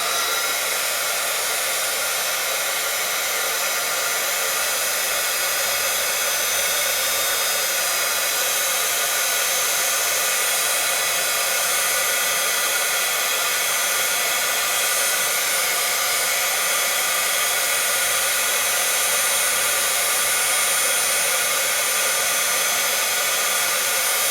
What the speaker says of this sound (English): I'm going to put up some of the extra, and you heat emboss.